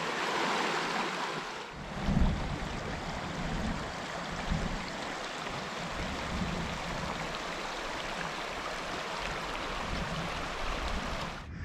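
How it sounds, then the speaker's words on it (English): The Colorado River rushing near its headwaters, a steady broadband roar of flowing water with wind buffeting the microphone, continuous and fairly loud with no voices. "what do you think of the Colorado River here, Catfish?"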